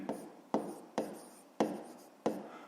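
A pen writes on paper while a fifth-grade maths exercise is worked, giving several short scratchy strokes at an uneven pace, close and quiet, with no talking.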